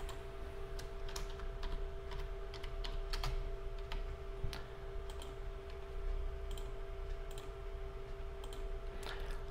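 Computer keyboard typing and mouse clicks come close and fairly quiet, scattered irregular taps and clicks over a steady electrical hum, with no talking.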